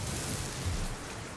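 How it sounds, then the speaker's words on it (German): Extreme storm on an alien planet in the video game No Man's Sky, a short stretch of dense rain-like rushing noise with a low rumble underneath, steady and fairly loud. "Ah, jetzt ist der Sturm da."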